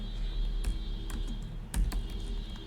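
Typing code on a computer keyboard, a handful of sharp separate key clicks at irregular intervals over a steady low hum, close and without speech.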